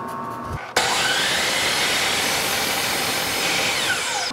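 A power saw cuts wooden cleat pieces for a blanket chest, starting abruptly after a quiet moment and then roaring loudly and steadily for about four seconds with no talking.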